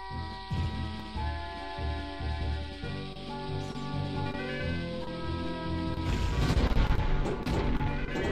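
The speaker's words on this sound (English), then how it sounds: "one bomb destroys this whole rock" A bomb blows apart a rock in the Nintendo game The Legend of Zelda: Ocarina of Time, heard as a loud crashing blast over game music, with heavier rumbling debris in the last couple of seconds.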